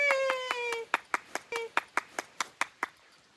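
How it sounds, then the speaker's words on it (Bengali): Hands clap in a brisk, evenly spaced series of about a dozen sharp claps outdoors at a Sahasradhara waterfall in Sitakunda, while a voice sings or calls over the first part of the sequence. "হাতে তালি"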